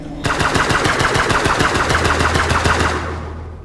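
Rapid automatic gunfire is aimed at the player in Breathedge, a loud steady burst of shots for about three seconds that then stops, with a low droning hum under the end of it.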